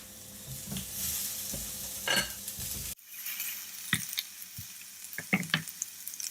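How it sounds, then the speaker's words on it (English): Courgette pieces hiss and sizzle on a very hot griddle, a steady broadband crackle for the first half, then quieter frying with a few sharp clinks and taps of utensils against the metal. "now we're just going to put the pieces of courgette onto the really hot griddle to get some nice charring on there"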